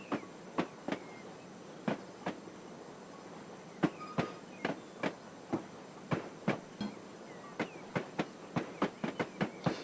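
A 0-4-0ST saddletank steam locomotive in Train Simulator rolls along with sharp, evenly spaced wheel clicks over rail joints, quickening toward the end above a soft rumble.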